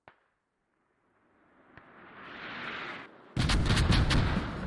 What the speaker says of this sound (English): And there's the mortars, mortar barrage coming in.